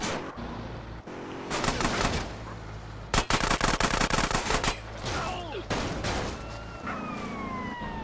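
Gunfire in Grand Theft Auto: San Andreas: loud machine-gun bursts and single shots crack in rapid clusters, mixed with a wailing police siren and game noise, no talk.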